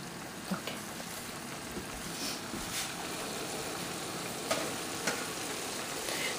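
One large onion frying in a pan for a traditional Gujarati muthia recipe, giving a steady, fairly loud sizzle throughout with a few small pops and no talk.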